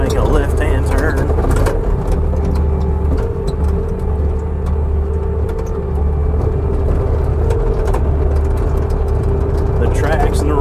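A 2016 Bobcat T590 compact track loader drives and turns left, its engine giving a steady low droning hum with faint track clatter, while someone talks over it throughout.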